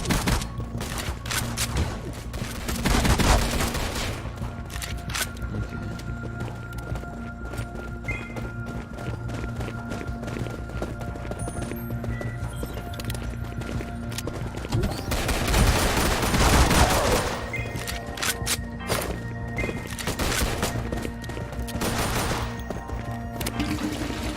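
Gunfire in a zombie video game, a sustained stream of rapid shots and crackling fusillades with louder bursts now and then, over a busy game background.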